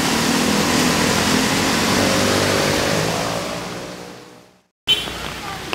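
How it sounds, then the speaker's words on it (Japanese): Traffic swishing past on a wet street in Taipei during morning rain, with scooters going by; a steady broadband roar of tyres and engines fades away near the end, then resumes briefly after a short gap. "で、雨降っててもスクーターはたくさん走ってます。"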